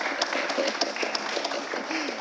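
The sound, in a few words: audience applause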